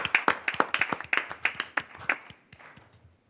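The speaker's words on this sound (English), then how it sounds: "She deserves an applause." Audience applause at a school board meeting, a burst of sharp, close hand claps in quick irregular rhythm that thins out and fades over about three seconds.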